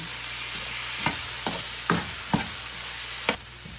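Leftover fish and vegetables are stirred in a hot pan over a constant background sizzle, with about five distinct scraping strokes of a utensil spaced at roughly even intervals. No one speaks.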